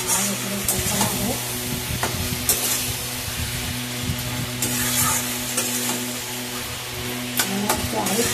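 Spiced food sautés in a pan, a continuous sizzle under scrape-and-clatter stirring strokes, with a low steady hum underneath throughout.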